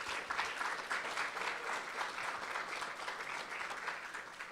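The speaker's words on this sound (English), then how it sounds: "give them another round of applause" An audience at a teach-in applauds panelists with brisk, continuous clapping, a fairly distant, even roar of many hands throughout.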